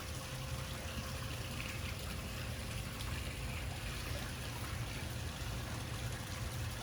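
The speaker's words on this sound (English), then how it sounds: "Pumps are running." Pool pumps run steadily at a Florida home's resurfaced pool, giving a continuous soft hum with a faint trickle of flowing water, even and unbroken throughout.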